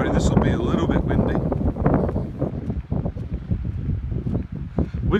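Gusty wind buffets the microphone at a seaside car park beside a surfing beach at Brown Bay, South Australia, a loud continuous rumble with flapping bursts; someone speaks over it throughout.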